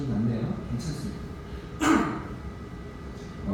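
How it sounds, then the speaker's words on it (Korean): A single sharp cough breaks out partway through a church sermon, rising above a low, steady room background. "기침 좀 났네요"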